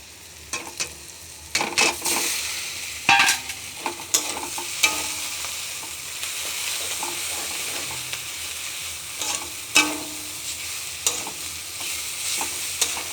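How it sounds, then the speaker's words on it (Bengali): Boiled pasta and softened potatoes stir-fried in soybean oil with salt, turmeric and green chilli: a continuous sizzle punctuated by irregular scraping and clanking of a spoon against the pan, loud bursts as the food is tossed. "এবার আমি পাস্তাটা দিয়ে দেবো"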